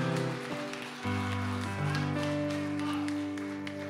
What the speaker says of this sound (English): Let's give a hand clap to the Lord.